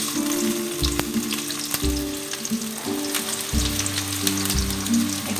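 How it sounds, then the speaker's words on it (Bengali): Chopped onions, about a cup, sizzling loudly in plenty of hot oil while cooking goat tripe, a steady close frying hiss with occasional stirring clinks. "এখন তেলটা গরম হলে আমি 1 কাপ মতো পেঁয়াজ কুচি ছেড়ে দিলাম।"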